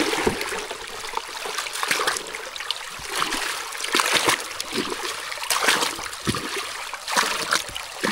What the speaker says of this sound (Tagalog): Salok tayong tubig natin, oh.